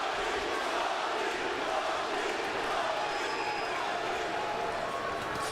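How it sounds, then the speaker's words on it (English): A large arena crowd at a Strikeforce MMA fight roars continuously, a loud, dense cheer that stays level for the whole stretch with no break and no talk above it. "Listen to this crowd, guys."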